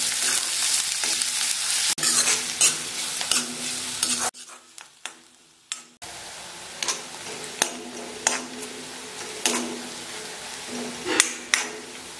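Onions sautéing in a pan for a mushroom and peas curry: a steady sizzle with repeated spoon scrapes and taps against the pan, briefly dropping quieter before the frying and stirring resume.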